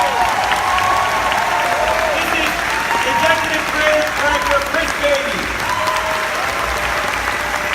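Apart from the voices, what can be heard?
audience applause at Star Wars Galaxy's Edge presentation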